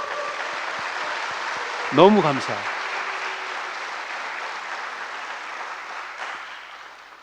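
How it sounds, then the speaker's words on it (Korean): A congregation at a Sunday service in a Daegu church applauds in a steady, sustained wash of clapping that fades near the end, while someone speaks briefly over it. "여러분 박수 한번 보내야 돼요"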